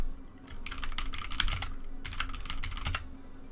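Rapid clicking of computer keyboard keys in two bursts of steady typing, close and moderately loud, with a low hum underneath and no voices.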